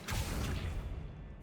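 A summoning spell in a Hogwarts Legacy wizarding game swishes through the air, a quick soft whoosh that fades over about a second.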